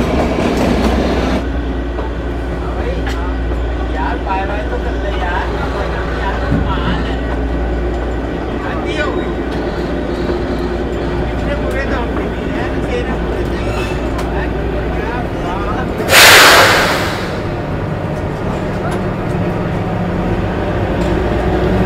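Kalka to Shimla toy train running in light drizzle, a steady rumble and clatter of rail cars continuing throughout, with a brief loud hiss or squeal midway and talk faintly under it.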